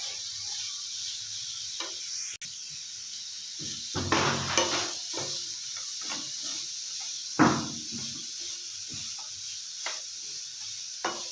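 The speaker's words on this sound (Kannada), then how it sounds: "ಕ್ಯಾರೆಟ್ ಚೆನ್ನಾಗಿ ತುಪ್ಪದಲ್ಲಿ ಹುರ್ಕೊಳ್ಳೋಣ" Grated carrot fries in ghee while a spoon stirs it, giving a soft background sizzle broken by scattered scraping and clinking strokes against the pan, some sharper and louder than others.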